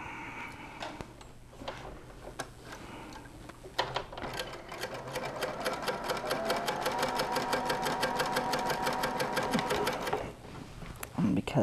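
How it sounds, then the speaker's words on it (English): A sewing machine stitches two quilt block halves together, starting with scattered clicks and handling noises, then running in a fast, even rattle of needle strokes close by before slowing near the end. "now I'm going to sew the two halves together"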